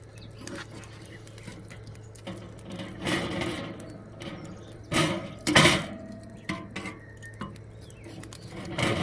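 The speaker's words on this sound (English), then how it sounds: "Put this lid back on here so that fire died down." Racks of ribs are flipped on a charcoal grill, and then the metal lid is set back on. Scattered metallic clanks and scrapes come close up, with a louder clatter near the middle over a low steady hum.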